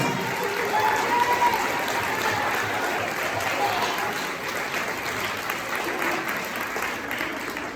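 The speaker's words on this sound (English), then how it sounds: "give them a round of applause" Applause from a school concert audience for fourth grade band students, a steady wash of many hands clapping at moderate level, easing slightly toward the end with a few voices mixed in.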